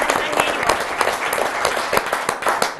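Applause from the crowd at an Italian amateur boxing event as a junior boxer is introduced, with brisk clapping that holds steady and mixes with a little crowd noise and voices.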